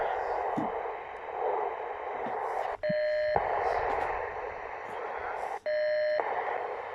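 A radio transceiver in CW mode keys short steady beep tones while SWR is checked on a magnetic transmitting loop antenna, two clear tones standing out against background hiss, with a voice speaking quietly.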